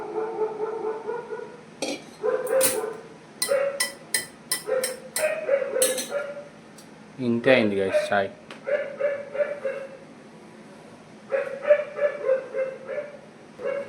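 A dog barks repeatedly in short yips and bow-wows at close range, with a burst of whimpering in the middle, while someone talks over and between the barks.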